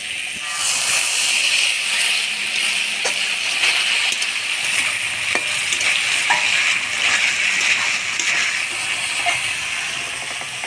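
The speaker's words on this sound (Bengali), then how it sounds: "এবার অল্প মশলার বাটি ধোয়া জল দিয়ে মশলাটা ভালো করে কষাই নেব।" Water poured onto a spice paste frying with potatoes for a Bengali fish curry sets off a loud, continuous hissing sizzle of steam, with a few faint clinks from the pan beneath it.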